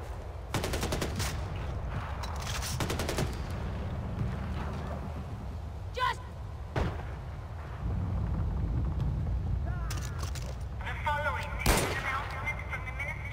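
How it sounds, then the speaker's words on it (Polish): Several sharp gunshots crack out over a steady soundtrack in the video game Far Cry 4, spaced irregularly, with a burst of rapid fire near the end. "Taki strzał ostrzegawczy to był."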